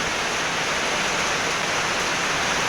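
Heavy rain pours steadily and loudly at close range, a dense continuous hiss with no break and no voices.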